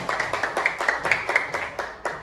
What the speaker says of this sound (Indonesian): Tepuk tangan untuk Sabian.